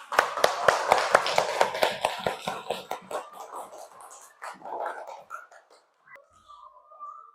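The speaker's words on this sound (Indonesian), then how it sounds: "Tepuk tangan dulu untuk kita semua." A class claps in sharp, rhythmic unison, loud at first and then tapering into scattered claps and soft murmuring as the room settles.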